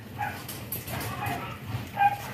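German Shepherd dogs in a kennel giving soft yips, whimpers and muffled barks, faint and intermittent, with someone talking quietly nearby.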